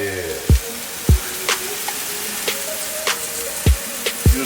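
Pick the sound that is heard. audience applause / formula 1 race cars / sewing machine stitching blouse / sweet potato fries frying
sweet potato fries frying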